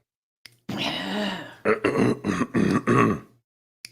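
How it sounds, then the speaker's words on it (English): A loud, close throat clearing: one long rough rasp followed by several short harsh bursts in quick succession. "That may clear my throat."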